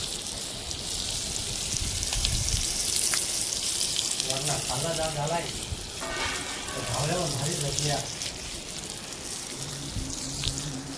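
Kaul fry cooks over an open fire with a continuous crackling sizzle, while muffled voices talk intermittently in the background.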